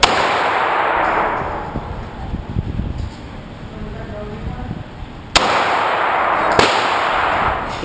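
Single pistol shot at an outdoor shooting range, a sharp loud crack near the five-and-a-half-second mark followed by a second fainter report, with steady background hiss and people talking nearby.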